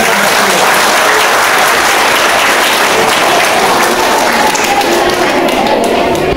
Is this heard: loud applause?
yes